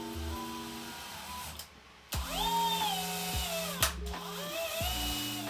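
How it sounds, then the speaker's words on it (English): A power drill runs at low speed on metal, whirring steadily at a slow, low pitch, stopping briefly twice and then starting up again, close by with no talking. "I set the drill on the low speed as well"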